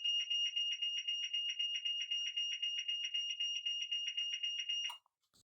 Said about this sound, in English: Now this is how the beeping sound goes.